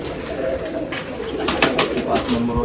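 Pigeons coo at a pigeon festival in Nashik, with a few soft, close, repeated coos over a low background hum.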